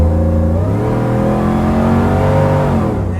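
A supercharged Chevrolet Suburban engine revs up from idle, holding a loud, steady high-rpm drone for a couple of seconds before dropping back down, close and alone.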